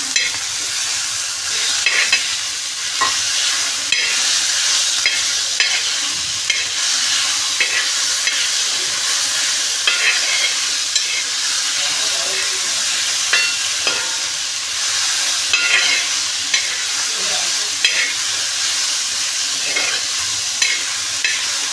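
Tomato, onion and green chili fry in a pan with a steady sizzle, while a utensil stirs and scrapes against the pan in frequent short knocks throughout, up close and with no talking.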